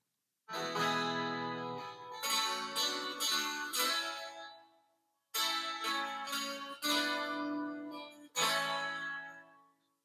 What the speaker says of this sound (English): those three acoustics doing those three different parts